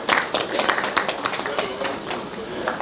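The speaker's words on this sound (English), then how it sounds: "So another round of applause too." An audience applauds at the launch event for QuickMed Araya, a digital healthcare platform. Dense, overlapping hand claps sound fairly close and loud, holding steady for a few seconds.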